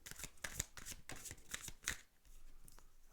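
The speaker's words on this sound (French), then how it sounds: "Alors, je tire encore une carte." Tarot cards shuffled and slid against one another as one is drawn from the deck, a run of close, crisp papery riffles and flicks that ease off near the end.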